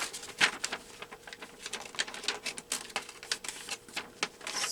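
Paper being cut for a Christmas collage gluebook, a quick series of crisp scissor snips and rustles, close and fairly loud, coming in an uneven rhythm with short pauses.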